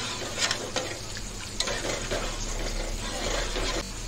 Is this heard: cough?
no